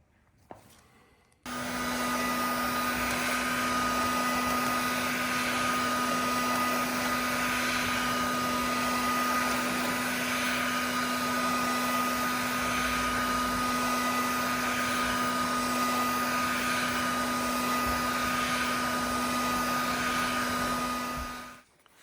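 Heat gun blowing steadily onto a motorcycle wheel hub, a constant close whirring rush of air with a fixed motor hum, running without a break after a short quiet start.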